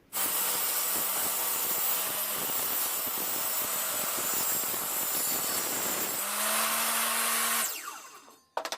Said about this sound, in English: So let's set this up and do a rip cut using this push block.